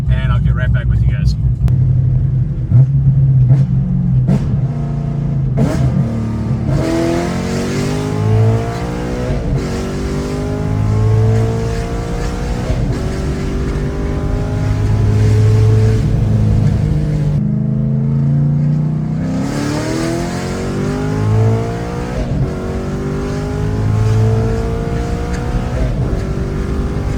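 A car being driven in the country, its engine droning steadily up close with repeated rising rev sweeps as it accelerates through the gears, a constant low rumble throughout.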